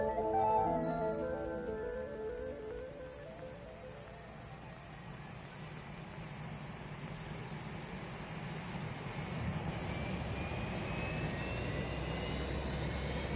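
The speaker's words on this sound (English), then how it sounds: "Then run up and trimmed, equalized thrust from all four engines at identical throttle settings." Four jet engines of a Boeing 747 running up on the ground in snow and freezing temperatures, a steady loud drone with a rising whine building toward the end.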